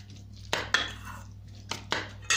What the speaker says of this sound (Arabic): غادي نخلط مزيان هاد البطاطا كتنسجم مع